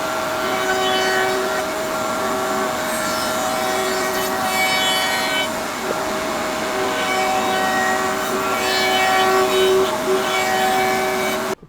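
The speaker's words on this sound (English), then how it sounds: "what we're gonna do now is do a round over on the three sides" A router table rounds over the three edges of a wooden parakeet nesting box, giving a steady, loud machine whine with a sustained tone that holds throughout, with no talking.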